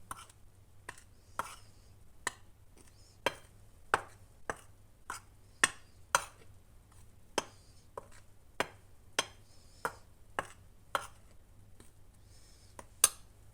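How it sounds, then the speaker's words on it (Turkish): Flour and baking powder stirred in a bowl, heard as a steady series of sharp utensil clicks against the bowl, evenly spaced and fairly quiet. "Şimdi unumun içine kabartma tozunu boşaltıyorum ve karıştırıyorum."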